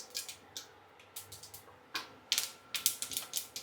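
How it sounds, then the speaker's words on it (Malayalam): Mustard seeds spluttering in hot oil give sharp, irregular crackling pops, scattered at first and then coming in quicker bursts, fairly quiet with no speech. "കടുക് പൊട്ടട്ടെ."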